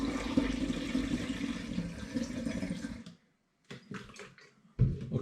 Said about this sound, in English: I'm now going to pour the beer back into the demijohn via a funnel